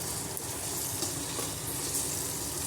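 Ginger garlic paste and turmeric fry in a pan for egg biryani, producing a steady, dense, close sizzle that holds level throughout with no voices.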